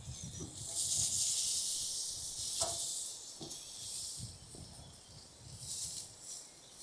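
Steak searing in a hot pan over a camp setup inside a heated tent, giving a steady broad hiss that swells and eases, with a few soft low knocks underneath.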